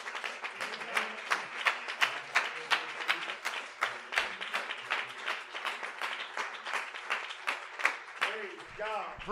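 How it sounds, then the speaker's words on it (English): A church congregation claps in unison, a steady rhythmic beat of many hands, with voices singing or calling out over it. "Let's clap our hands before you're seated."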